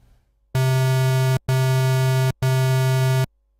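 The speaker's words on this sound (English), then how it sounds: "Then the next waveform is the square wave," Square wave oscillator on a Sylenth1 synthesizer sounds three held notes of equal length in a row, separated by tiny gaps. Each note is bright, buzzy and hollow, loud and steady, with no voice present.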